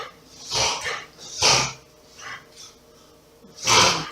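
A sick dog with kennel cough breathes heavily and snorts close by, four or five rough, raspy bursts separated by short quiet gaps.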